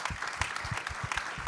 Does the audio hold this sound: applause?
yes